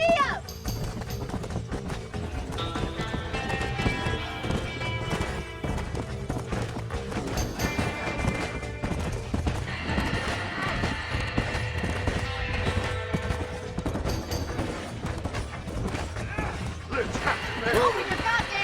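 Horse hooves clip-clop in a gallop during a barn-fire scene in the video game Red Dead Redemption, steady and rhythmic beneath shouting voices, music and creaking mechanisms throughout.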